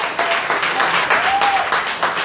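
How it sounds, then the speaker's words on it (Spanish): A church congregation applauds during a Spanish-language sermon, dense clapping in rhythmic surges with faint vocal cries mixed in, fairly loud and close. "¿Podría aplaudir al Señor esta tarde,"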